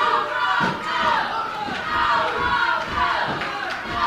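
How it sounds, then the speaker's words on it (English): Wrestling arena crowd loudly chanting and screaming in rhythmic surges for wrestler Rob Conway during a tag match, with dense roaring voices rising and falling across several bursts. "Go, Rob, go, they're screaming."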